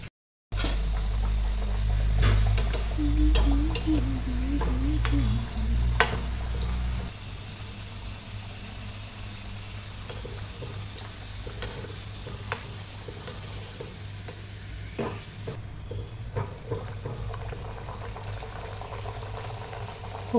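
Kachori deep-frying in hot oil bubbles and sizzles steadily in a home kitchen, a dense continuous fizz with occasional pops and utensil clicks, a low hum fading out partway through.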